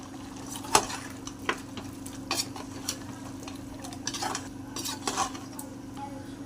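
A spoon scrapes and clinks against a pan as spicy farm chicken fry is stirred. The pan gives a soft sizzle underneath, and sharp utensil taps recur every half second or so.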